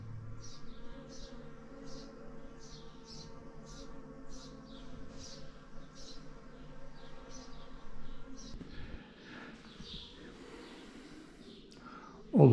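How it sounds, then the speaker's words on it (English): Bees or wasps hum steadily in the courtyard of the Arkadi monastery, a soft continuous buzz with faint chirps repeating above it, ending with a brief loud sound. "And I think bees or west high side, you can hear them hum."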